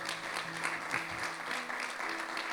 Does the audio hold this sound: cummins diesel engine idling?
no